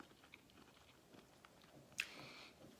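Quiet close chewing of extra spicy shrimp, soft rhythmic wet bites and mastication with a brief louder crunch or smack near the end.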